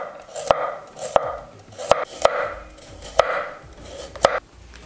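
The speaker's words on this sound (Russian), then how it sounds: "Морковь нарезаю кружочками." A knife slices carrots into rounds against a board, six or seven crisp, evenly spaced cuts close up with no talking.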